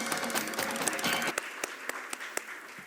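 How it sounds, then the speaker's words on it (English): An audience at a conference inauguration applauds the chief guest and dignitaries, a brief burst of clapping that thins into a few separate, spaced claps as it dies away. "A big round of applause for our chief guest and our dignitaries"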